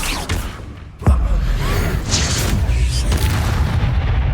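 A Confringo explosion spell in the Hogwarts Legacy video game goes off as one deep, heavy boom with a sharp attack, followed by a rumbling tail under continuous game ambience and faint whooshes.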